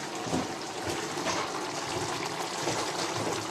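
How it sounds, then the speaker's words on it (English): Water poured from a kettle into a pan of homemade sweet and sour sauce on the stove, a steady soft pouring hiss lasting throughout, no talk. "And we're going to add some water."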